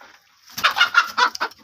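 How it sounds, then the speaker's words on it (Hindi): A broody hen sitting in a poultry coop, apparently about to lay, gives a short run of four or five close, clear clucks in quick succession after a brief silence. "बैठी हुई मुर्गी"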